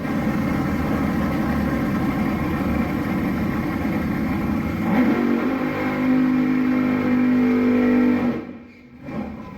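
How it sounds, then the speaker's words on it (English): A two-seater top fuel dragster roars loudly and steadily, its engine pitch rising partway through, before the sound drops away abruptly near the end; no voices. "You can get in the top fuel car and go for a ride."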